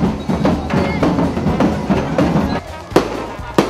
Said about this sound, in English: Fireworks malang gali.